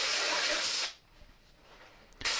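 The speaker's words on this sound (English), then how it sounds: "So when I spray the carb cleaner in there" Carb cleaner sprayed into the intake of a 2009 MINI Cooper diesel engine: a close, loud aerosol hiss lasting about a second, then near silence before a short second burst of spray at the end.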